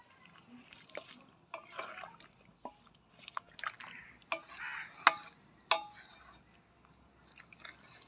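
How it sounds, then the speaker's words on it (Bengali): A spoon stirs a fish and eggplant curry with mustard oil in a pot, producing soft, wet scraping and sloshing with scattered clinks, close and fairly quiet. "এবার আমি মিশিয়ে নিই ভালো করে।"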